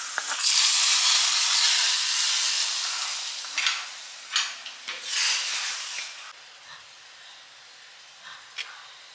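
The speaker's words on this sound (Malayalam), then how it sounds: "ഇനി വെളിച്ചെണ്ണയിൽ ചെറിയ ഉള്ളി വഴറ്റിയിടൽ." Small shallots sautéing in coconut oil for a Kerala fish curry, a loud steady sizzle that starts strong and gradually softens, broken by a few scraping stirs near the end, with no voices.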